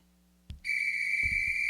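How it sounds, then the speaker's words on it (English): A single whistle is blown once after a faint thud, a shrill, piercing tone held steady and loud close by for over a second, with a soft knock beneath it. "Gotta have my whistle. Gotta have a whistle."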